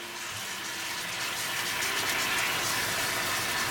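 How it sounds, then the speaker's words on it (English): Marinated chicken cooking in a pot on high gas gives a steady, loud sizzle and hiss, continuous and even, with no voices. "Chicken has been marinated for 10 minutes and we're going to bring into our pot"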